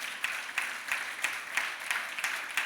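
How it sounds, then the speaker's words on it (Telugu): A church congregation claps in unison during a sermon, a steady rhythmic beat of roughly three claps per second, moderately distant and with no voices over it. "చప్పట్లు కొట్టి ప్రభువుని మహింపరచండి"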